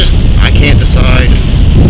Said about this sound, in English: That wind is going right up the visor.